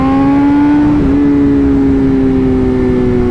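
A 2021 BMW M 1000 RR or Honda CBR1000RR-R Fireblade SP superbike engine holds a loud, high-pitched steady whine close by, dipping slightly then settling into a sustained drone.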